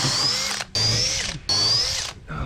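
Power drill driving screws into a wooden boat during restoration, three loud whirring bursts separated by short pauses, close and clear.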